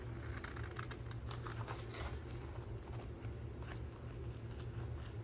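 Paper being trimmed for a Bible study trifold, a quiet, steady run of small crisp cuts and scrapes repeating close by over a low constant hum.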